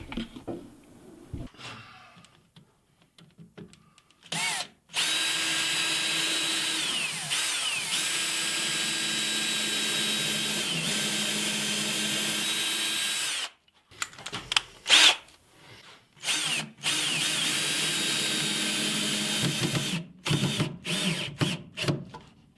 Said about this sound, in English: Let y'all see me drilling right into them.